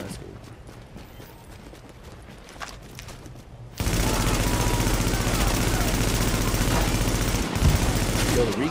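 Automatic rifle fire from a police weapon in The Division's Last Stand mode cuts in partway through as a dense, continuous, loud rattle, following quieter game ambience with talk over it.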